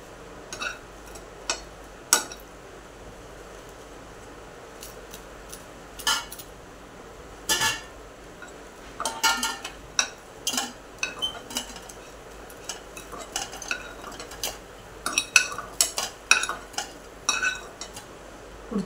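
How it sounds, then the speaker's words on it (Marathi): Fried bread pieces lifted out of a pan of ghee, heard as scattered metallic clinks and scrapes of a utensil against the pan in bursts, close and fairly faint, with no talking. "हे पहा, सर्व फ्राय करून झालेत आपले तुपामध्ये."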